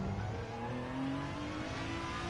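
A McLaren BMW engine revs in a racing video game, a sustained mid-pitched drone whose tone climbs steadily as it accelerates, heard with no talk.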